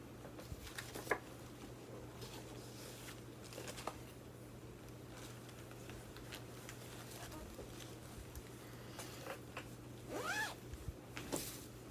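A clothing zipper rasps open and shut in a few quick, close bursts over faint steady background hum, with no talking.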